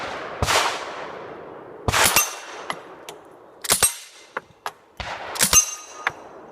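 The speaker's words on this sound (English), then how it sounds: "as soon as you squeeze the trigger, it's going" A suppressed grease gun fires outdoors at a sportsman's club range in short bursts, each a cluster of muffled sharp reports with metallic clanks and pings, spaced about every second and a half.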